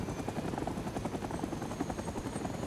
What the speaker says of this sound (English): Okay, we got a new helicopter. I'm going to get in.